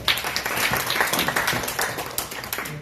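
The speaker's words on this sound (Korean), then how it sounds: "큰 박수 부탁드립니다." An audience applauds a speaker at a blockchain technology talk, a dense, steady patter of many hands clapping at moderate distance for about three seconds.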